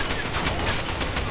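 Heavy gunfire in the Far Cry 2 video game on PS5: dense, continuous volleys of shots blur into a steady loud roar, with sharper reports standing out through it.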